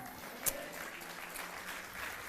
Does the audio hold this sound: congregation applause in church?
yes